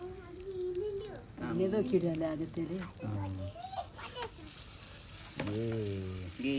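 Fish fries with a steady sizzle in a pan, running underneath people talking and calling out nearby.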